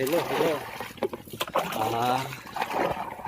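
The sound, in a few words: watering plants by hand, water flowing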